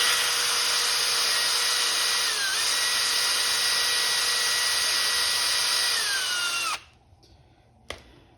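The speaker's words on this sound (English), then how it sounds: "We're just gonna take as much of this rust off." Power tool scrubbing rust off brake hardware on a 2012 Ford F-150, a loud, close, steady high whine that dips briefly under load, then stops abruptly, followed by a short clack.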